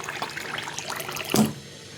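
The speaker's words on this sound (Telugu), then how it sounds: "నిండా వాటర్ పోసేసుకుందాము, మంచిగా నానుతుంది పప్పు." Water runs from a tap into a vessel of soaking lentils, a steady splashing fill that swells briefly near the end, in a home kitchen preparing haleem.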